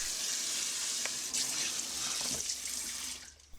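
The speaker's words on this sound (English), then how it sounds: "discard the water and gently rinse the lentils to remove the protective film" Tap water runs steadily into a sink while soaked red lentils are rinsed, a continuous hiss with a few soft splashes and clinks, moderately close, tapering off at the end.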